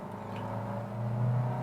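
A Seat Tarraco SUV accelerating in sport mode, heard as a steady, muffled engine drone from inside the cabin that swells slightly in strength toward the end.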